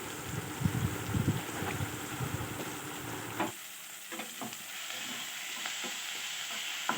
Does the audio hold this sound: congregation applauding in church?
no